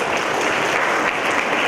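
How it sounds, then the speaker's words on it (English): Dense, loud applause from a crowd at a national moot court competition valediction ceremony, a continuous wash of clapping filling the hall. "very big applause to the participants of this event"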